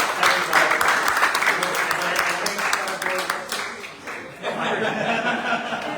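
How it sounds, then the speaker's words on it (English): Applause from attendees at a neighborhood association meeting, a burst of clapping mixed with some laughter and chatter that fades midway, then voices carry on. "Round of applause, guys."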